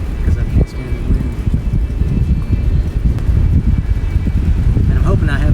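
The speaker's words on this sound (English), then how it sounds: "the wind will not stop howling" Strong, constant wind buffets the microphone at a hiking campsite on the Buffalo River Trail in Arkansas, a loud, rough rumble with gusty rustling that never lets up.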